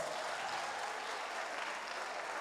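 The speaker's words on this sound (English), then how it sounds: "give them a round of applause" Audience applause at a high school roll call during the opening ceremony of the 22nd National Geoinformatics Day Exposition, a dense, steady wash of clapping that fills the whole stretch at even loudness.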